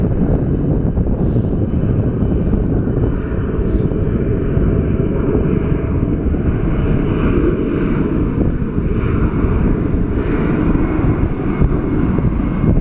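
A commercial airliner takes off at Phoenix Sky Harbor airport, its jet engines a steady, loud, broadband roar sustained throughout with no pauses.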